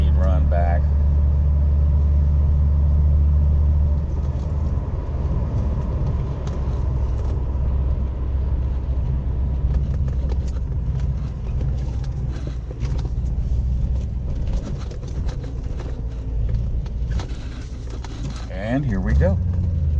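A C4 Corvette on a high-speed run during a long road trip, its engine and road rumble droning steadily and loud from inside the cabin, with brief speech near the end.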